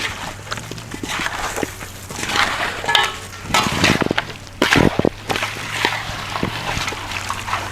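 Masala being worked into raw chicken by hand for kuzhimandhi, wet squelching and slapping close up, irregular and fairly loud, with a few sharper smacks midway and a low hum underneath.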